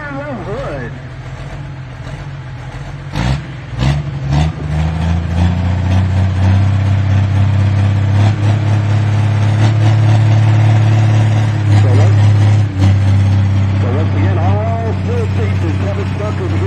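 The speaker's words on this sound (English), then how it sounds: "he's driving the John Deere called Smoking Deere with a Riverside" The Riverside engine in a John Deere pulling tractor roars loudly and steadily at a fireman's festival tractor pull, its deep drone building and holding while an announcer talks over it.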